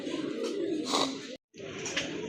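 Raj Golla pigeons, a pair with pure markings, coo steadily and close by in a low burbling drone that breaks off briefly and then resumes.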